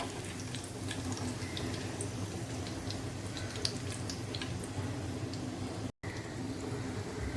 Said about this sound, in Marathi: उरलेली मिरची सुद्धा मी आता फ्राय करून घेत आहे।